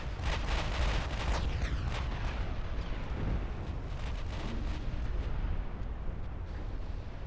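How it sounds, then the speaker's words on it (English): Battleship guns firing high explosive shells in Ultimate Admiral Dreadnoughts, a 1926 Norway versus Brazil naval battle; a rapid cluster of booming reports at the start gives way to a continuous heavy rumble of distant gunfire, with no talk. "Brazilian battleships at this range are mostly firing high explosives"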